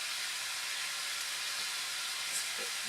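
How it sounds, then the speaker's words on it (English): A kitchen exhaust fan runs over a stove while chicken adobo with ginger cooks, giving a steady broad airy hiss throughout with no talk. "Pardon the noise of the exhaust."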